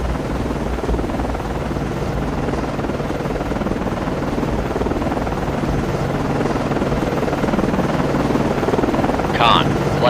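Helicopter rotor noise from an aircraft in the submarine game Cold Waters, a steady loud broadband whir and drone throughout, with a brief higher chirp near the end.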